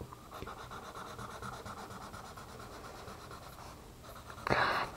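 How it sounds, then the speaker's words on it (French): A felt-tip marker colours on paper with a steady, soft scratchy rubbing that continues throughout, quiet and close, with a brief louder scrape near the end. "Essaye de colorier pas trop fort."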